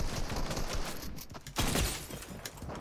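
Rapid gunfire crackles in the Fortnite video game, a dense stream of shots with a louder burst midway, moderately loud and mixed with game noise, without speech.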